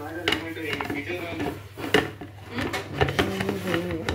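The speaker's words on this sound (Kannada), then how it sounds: "ಪಾತ್ರೆ ಎಲ್ಲ ತೊಳಿತಾ ಇದ್ದಾವೆ" Pots and dishes being washed, with scattered clinks and clatters of metal utensils, heard under people talking nearby.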